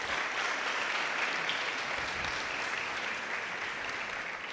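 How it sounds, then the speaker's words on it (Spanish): Sustained applause of welcome at a Christian family fellowship service, a steady dense wash of clapping with no voices over it. "Le damos un aplauso de bienvenidas a todos los conectados."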